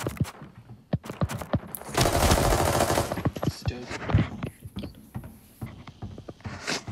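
Rapid bursts of automatic gunfire from a video game firefight, loud and dense with sharp individual shots scattered around a sustained barrage of fire in the middle, with brief voices calling out between the volleys.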